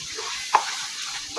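Potatoes with spices, spinach and fenugreek sizzle in a pan after water is added, a soft steady frying hiss with a couple of sharp spatula scrapes and clinks against the pan.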